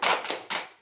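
A small group of women claps in quick bursts during the tepuk pintar clap game in a health and nutrition class, a few sharp rounds of hand claps close by with brief gaps between them.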